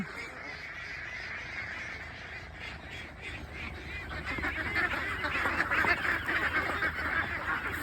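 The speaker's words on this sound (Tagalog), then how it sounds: "Marami palang itik si kuya." A flock of ducks being fed in a rural yard quacks and honks steadily throughout, growing louder and busier in the second half, with no talk.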